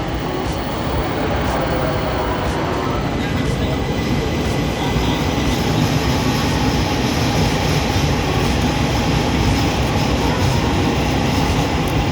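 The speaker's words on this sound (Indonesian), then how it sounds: "ini adalah satu rangkaian LRT yang bergerak dari peron jalur 2 stasiun Duku Atas" A Jabodebek LRT light rail train rumbles by close and loud from platform 2 at Dukuh Atas station, Jakarta, a continuous rolling roar with faint rhythmic clatter and metallic squeal above it.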